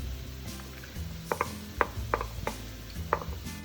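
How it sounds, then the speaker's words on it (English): Jackfruit and carrot being stirred in a pan, with a scattering of light clicks and scrapes of the utensil over a steady low background hum, close but fairly quiet. "Give this all a quick stir."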